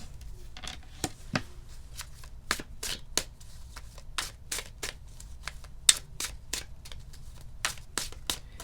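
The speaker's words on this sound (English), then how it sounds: "I never really shuffled, but I felt like I needed to shuffle today." A deck of tarot cards is shuffled by hand, giving a quiet, close run of crisp riffling snaps and flicks at an uneven rhythm.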